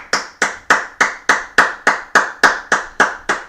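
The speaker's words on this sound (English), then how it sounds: "All right, clap it up." A group at a brotherhood class claps in unison, about a dozen sharp, evenly spaced claps in a steady rhythm, close and loud with no talk.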